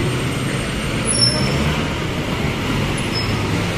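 Busy peak-hour street traffic in Davao, crowded with jeepneys and other vehicles, makes a steady, dense roar of engines and road noise. A few faint, brief higher squeals cut through it, and no one talks.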